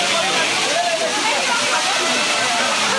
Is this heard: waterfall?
yes